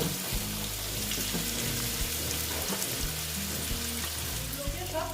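Potatoes fried slowly in a pan with turmeric give a loud, continuous sizzle. Low thumps and hums, likely from nearby building work, run under it.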